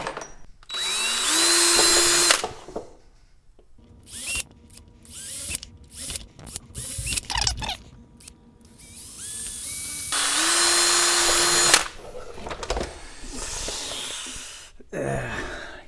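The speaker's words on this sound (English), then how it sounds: "So we will get that drill bit." Power drill spinning a 5/32 drill bit while working on a Craftsman 5/24 track snow thrower, several loud high-pitched whirring bursts of a couple of seconds each, separated by clicks, handling noises and quiet gaps.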